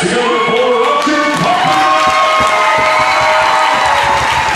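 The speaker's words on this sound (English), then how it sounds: "put your hands together for Carpenter!" At a boxing event, a crowd cheers and applauds the winner, loud and steady throughout, with whoops rising above dense clapping.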